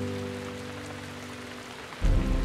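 Rain falls steadily through trees in koala habitat, a soft continuous hiss that swells louder near the end.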